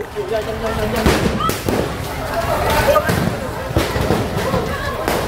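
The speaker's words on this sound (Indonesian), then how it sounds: "petugas berulang kali menembakkan gas air mata untuk membubarkan kerumunan massa" Several sharp bangs of tear gas canisters being fired by officers ring out at intervals over a noisy, shouting crowd of protesters being dispersed.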